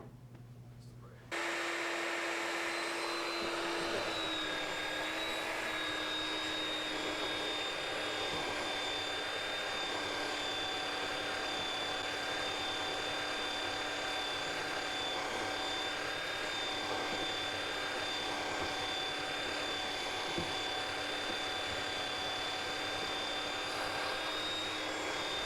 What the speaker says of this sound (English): we would take our belt sander and come around and take some of this off